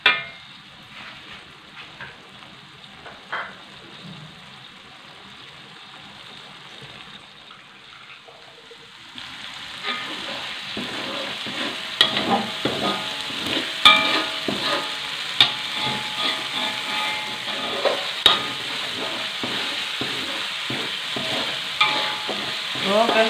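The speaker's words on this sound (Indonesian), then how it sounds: "Tumis sampai aromanya naik sahabat ya" Spices with white pepper powder sautéing in a pan for beef soup, a soft sizzle that swells into louder frying with repeated scraping stir strokes, close and steady, with no talking.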